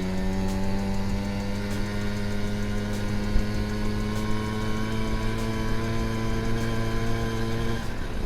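1978 Honda NC50 moped engine running steadily with a buzzy, high-pitched drone whose tones slowly rise as it accelerates, close and loud with no talking.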